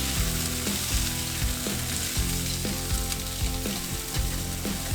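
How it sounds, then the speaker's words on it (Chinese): Cabbage stems stir-fry over high heat for sweet and sour cabbage, a loud steady sizzle broken by rhythmic scraping strokes of the spatula against the wok, with no talking. "再倒入白菜帮子翻炒。 这道菜全程大火。"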